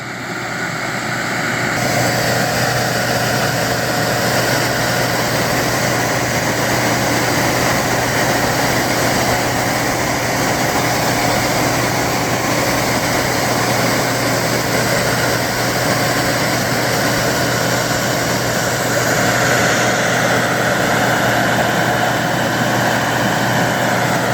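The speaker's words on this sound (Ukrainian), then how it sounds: "Позаду трактора встановлено вентилятор, який видуває горішок в наступне міжряддя." A tractor with a rear-mounted fan blows hazelnuts out of the trunk zone into the next row of a hazelnut orchard being readied for harvest, giving a loud, steady engine drone with a broad rushing airflow that runs unbroken.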